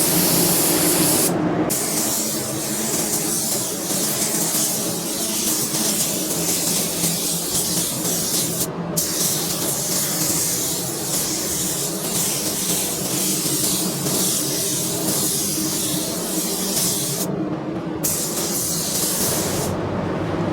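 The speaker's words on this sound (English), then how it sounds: "we're going to get a base coat blender on it" A spray gun applying base coat blender for Ford Ruby Red paint hisses steadily and loudly up close, broken by three short pauses where the trigger is released before spraying resumes.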